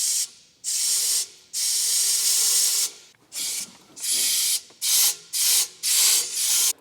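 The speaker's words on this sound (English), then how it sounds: "just gonna grab some compressed air, inject her into the system, and see if I can hear anything" Compressed air is blown in repeated bursts into a car's transfer case system, each a loud sharp hiss separated by short pauses, the blasts growing shorter and quicker toward the end.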